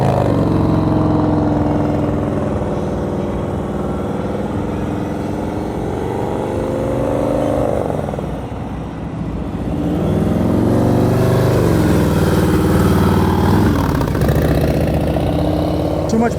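Motorcycle engine held at a low, steady idle-like note while riding slowly through a tight U-turn during advanced slow-speed practice in Florida, dipping briefly mid-turn before picking back up, with someone talking over it.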